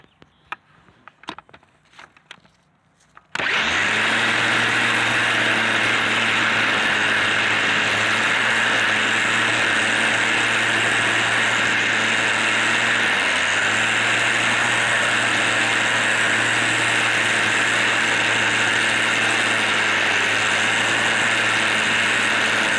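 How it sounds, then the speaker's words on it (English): Black & Decker CST12 12V cordless string trimmer, converted to a LiFePO4 battery, starts up after a few quiet clicks and then runs steadily with a loud, constant motor whine and line hum that holds alone for about twenty seconds. "So take it out and do some trimming."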